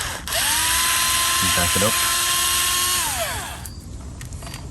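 A power drill with a chamfer countersink bit whines steadily as it bores into a scrap of 2x4, running for about three seconds before winding down, near and loud, with a brief spoken remark in the middle.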